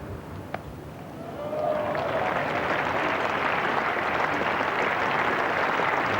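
A cricket crowd at Trent Bridge during the 1985 England v Australia Test breaks into applause for a single, swelling after a quiet start into sustained, distant clapping across the ground.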